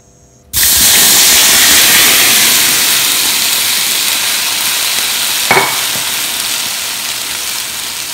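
Tomatoes dropped into a hot oiled pan for a chana greens curry burst into a loud, steady sizzle that slowly softens, with a brief clink of stirring midway.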